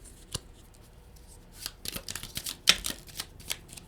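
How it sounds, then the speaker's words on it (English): Tarot cards being shuffled by hand, sparse at first and then a run of quick papery riffles and taps, close and fairly soft. "Shuffle a little bit more."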